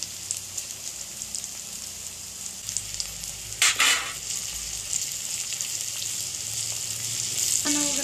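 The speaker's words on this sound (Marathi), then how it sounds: "सगळं पूर्ण कांदा चांगला मस्त आता भाजून घेतलाय" Onion fries in a pan with a continuous close sizzle and a few brief stirring scrapes, with no talking.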